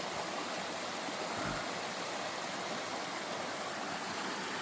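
A river rushes steadily beside a hiking trail on the North Fork–Middle Fork loop, a dense, even roar of flowing water close by that fills the whole stretch with no talking.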